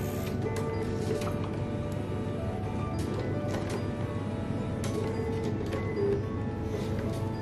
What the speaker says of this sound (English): but it is now printing that label.